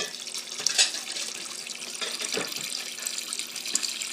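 Cold tap water runs into a container in a home kitchen during peach canning, a faint, steady splashing trickle with small surges and no one talking.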